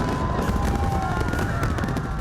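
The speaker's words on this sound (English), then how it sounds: "Spectacular fireworks at Victoria Harbour ushered in the new year." A New Year fireworks display over Victoria Harbour in Hong Kong crackles and pops continuously in dense, overlapping bursts, with festive music running underneath.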